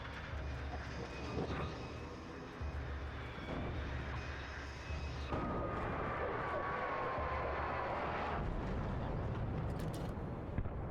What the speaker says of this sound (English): Oh, they're attacking the helicopter.